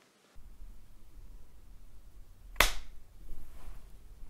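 A single sharp hand clap rings out once, loud and close, in an otherwise quiet room with faint background hiss and no voices.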